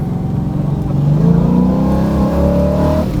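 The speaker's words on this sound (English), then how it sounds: "I'm gonna take a corner at about 40." A car fitted with a Silver Sport transmission takes a highway corner at about 40 mph, its engine loud and steady with a rising, revving tone that climbs through the turn before easing off.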